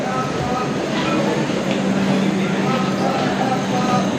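A steady rumbling train ride arriving in Goa, with continuous wheel and carriage noise, fairly loud and close, with faint voices mixed in beneath.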